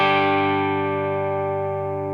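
A down-tuned guitar strikes a single sustained chord with an effects-unit, slightly distorted tone; the chord rings loud and close, then slowly fades over about two seconds with no voices.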